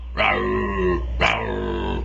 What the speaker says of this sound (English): that's Jada down there making that dog growling noise